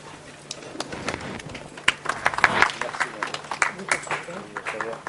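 A studio audience applauds the arrival of a Congolese party president as a guest on a televised public-affairs talk show; clapping swells after a quieter start into a steady, close clatter of many hands, with a voice heard alongside.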